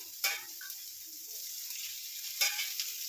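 Oil sizzles and fries in a pan on the stove while chicken sambar is cooked. The sizzle is a steady, fairly faint hiss, with two brief louder bursts of crackling as food is stirred.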